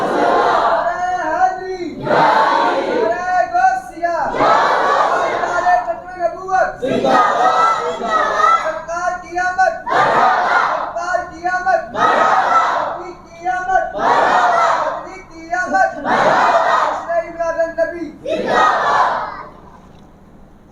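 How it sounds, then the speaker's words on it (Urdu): A large crowd at an Urdu religious sermon shouts slogans in loud call-and-response, with about ten forceful bursts in a steady rhythm and voices leading between them. "حضرات یہ کچھ نعرے کل کے لیے بھی بچا لیں۔"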